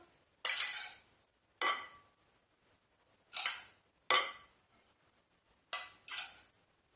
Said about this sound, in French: Et je remue bien pour mélanger.